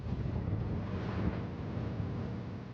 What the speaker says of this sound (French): Les skippers sont secoués par ce premier coup de vent.